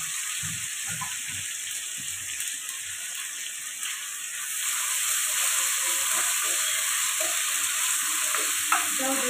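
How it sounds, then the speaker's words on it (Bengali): Onion and green chillies frying in a pan, a continuous close hiss and sizzle that grows a little louder midway, with occasional stirring scrapes and no talk over it. "এবার এটা পেঁয়াজটা ভাজা হোক।"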